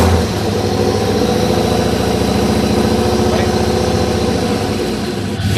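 A hot rod drag car engine idles close by with a loud, steady, throbbing rumble that holds an even rhythm throughout, no voices over it.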